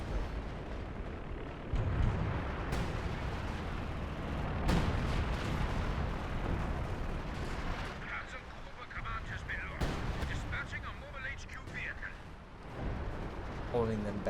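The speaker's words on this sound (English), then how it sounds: "So artillery still going, still managing to hold that back." Artillery barrages in a Company of Heroes 2 battle rumble and thud repeatedly through a dense, continuous wash of combat noise, with bursts around the opening seconds and sporadic sharper cracks later.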